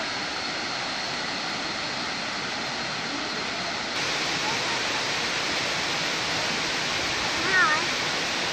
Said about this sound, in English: Here we are at the Na Muang waterfall,